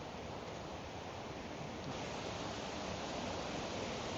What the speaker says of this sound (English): I can kind of hear the water flowing from the waterfall.